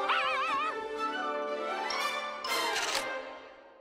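Dogs yelping and whimpering up close, with high whining cries and a few sharp yips, fairly loud with no talking.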